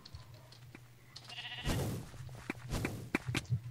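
Minecraft sheep bleating in short nasal calls amid busy game sounds, footsteps and clicks, moderately close.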